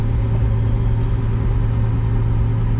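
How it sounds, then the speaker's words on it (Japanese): A Lamborghini Sian Roadster engine running close by with a steady, deep rumble and no clear rise in revs, alone without talk. "エンジン音も結構変わるんですかね。"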